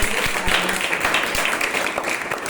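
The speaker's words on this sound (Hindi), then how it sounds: "मैं चाहता हूं आप उन बच्चियों के लिए तालियां बजाओ" Applause for a group of schoolgirls at an event in Uttar Pradesh about a student-built satellite launched by ISRO, a steady crowd clapping texture sustained throughout with no voices over it.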